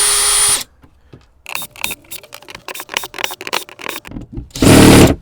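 A power drill backs screws out of van seating in short, stuttering whirring bursts, close up, bracketed by longer sustained runs at the start and end.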